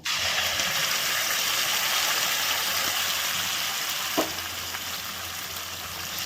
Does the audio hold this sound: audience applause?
no